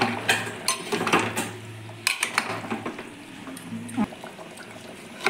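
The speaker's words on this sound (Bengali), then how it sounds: "দিয়ে ভালো করে নাড়াচাড়া করে নেব" Goat mutton curry with coriander leaves being stirred in a pot on a low-oil, lightly spiced cook: scraping and clinking of a utensil against metal with soft sizzling, under a steady low hum, occurring in irregular bursts.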